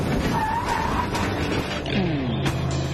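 A remote-controlled car brakes to a stop during a MythBusters test, with a short tire squeal and skidding scrape over motor whine, close and fairly loud.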